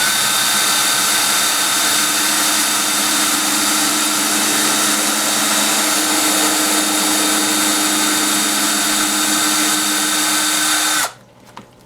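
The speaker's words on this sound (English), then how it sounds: "I'm going to pilot drill this so that way I don't tear the wood all up." A power drill bores a pilot hole into wood for a guinea pig cage, one steady loud whine held for about eleven seconds before cutting off abruptly, no talk.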